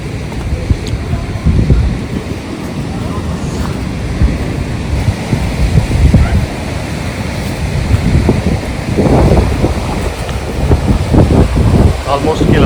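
Sea waves surge and wash up a beach in repeated broad rushes, with strong wind buffeting the microphone throughout and faint voices now and then underneath.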